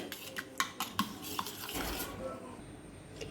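A spoon stirs gram flour (besan) into curd for kadhi, making a few light clinks against the bowl and then a soft scraping swirl, close but faint.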